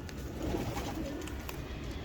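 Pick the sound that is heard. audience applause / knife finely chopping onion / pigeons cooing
pigeons cooing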